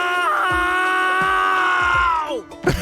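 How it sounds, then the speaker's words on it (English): A character screams in the video game AI: The Somnium Files – Nirvana Initiative: a loud, sustained voiced cry of about two seconds that slides down in pitch at the end, with game effects beneath it. "was a good scream, Greg Chun."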